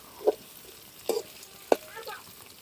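Green chillies and chopped onion frying in a pan, heard as a few close, separate stirring scrapes and sizzles over a quiet low background.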